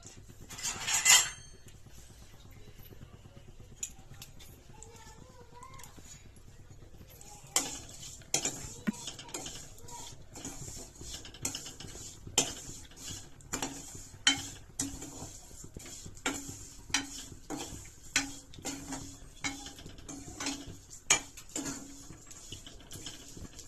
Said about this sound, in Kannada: ತುಪ್ಪ ಹಾಕೊಂಡು ಫ್ರೈ ಮಾಡ್ಕೋಬೇಕು.